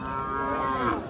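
A single cow at a Raniganj cattle market gives one close, loud, sustained moo that fills the whole short moment, with no talk over it.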